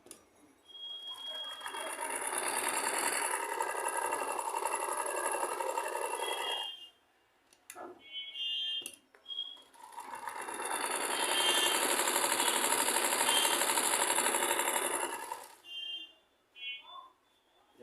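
A sewing machine stitches fabric after dirt was cleared from its lower-thread tension: two long, steady runs of buzzing mechanical whir, separated by a short pause with a few small clicks and taps.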